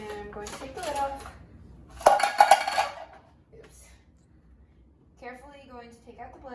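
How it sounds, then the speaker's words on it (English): Plastic lid pulled off a food processor with a brief clattering rattle, close and moderately loud, set between stretches of someone talking. "So I am going to take the lid off."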